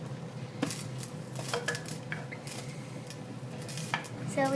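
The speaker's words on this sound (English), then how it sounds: "we'll take that out and let's stir some more" A utensil stirs heated milk in a pot after lemon juice is added to curdle it into cheese, giving soft scraping, clinking and sloshing sounds at close range with a quiet background.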